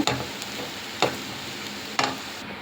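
Potato rice being stirred in a pan, a low steady sizzle broken by three evenly spaced scraping strokes of the spoon, fairly quiet and close.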